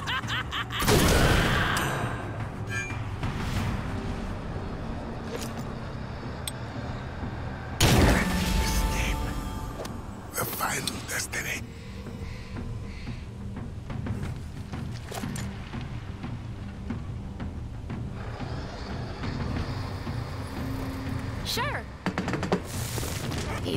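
Gunfire in the game Hard West 2, a few sharp loud bursts standing out over a steady background of game sounds, with people speaking at times.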